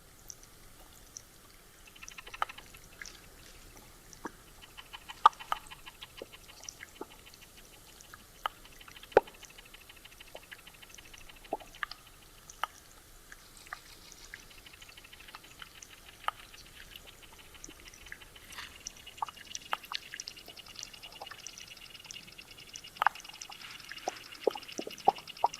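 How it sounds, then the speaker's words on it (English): Whirligig beetles are recorded underwater through a hydrophone. Scattered sharp clicks and ticks pop irregularly over a faint watery hiss, with some soft buzzy chirring in between. "This is like a competitive battle of underwater bugs moving their penis around."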